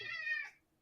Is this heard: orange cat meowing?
yes